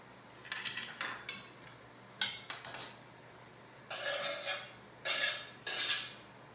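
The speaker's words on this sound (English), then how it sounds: "And saute away" Food is sautéed in a pan, heard as short bursts of a utensil scraping and clinking against the metal. The bursts come in uneven clusters separated by quiet pauses.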